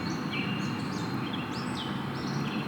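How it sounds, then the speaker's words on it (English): Outdoor street ambience: a steady broadband wash of distant city noise with birds chirping and tweeting intermittently over it, with no voices. "So this is just street sounds,"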